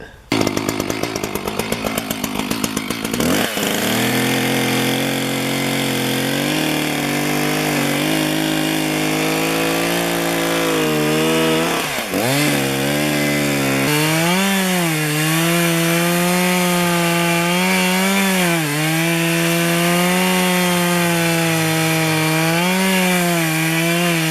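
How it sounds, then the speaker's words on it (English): A chainsaw runs loud and close for the whole stretch, its engine pitch rising and dipping as the blade bites into and trims through an ash log. "now I have to put the chainsaw to work, doing a little bit of trimming to fit"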